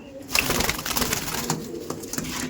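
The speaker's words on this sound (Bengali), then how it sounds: "নর্মাল ম্যাড্রাস পায়রা আপনার সঙ্গে দেখাচ্ছি দেখুন পায়রাটা দেখুন" A Madras pigeon coos close by, a short series of soft throaty pulses over light background noise in a pigeon loft.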